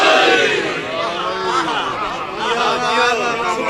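A crowd at a religious majlis in an imambargah chants a slogan in unison, loud massed voices rising and falling together close by.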